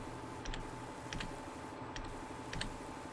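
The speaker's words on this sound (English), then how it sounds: "you probably heard my aggressive typing over that one" Aggressive typing on a computer keyboard, a few hard clusters of key clicks spaced roughly every half second to second, faint over a steady background hum.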